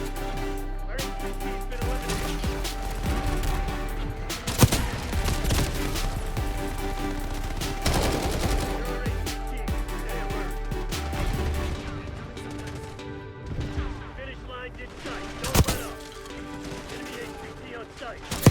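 Gunfire in the battle royale game Call of Duty Warzone, repeated bursts and sharp shots over a busy game soundscape, with a few loud cracks standing out and voices talking over the action.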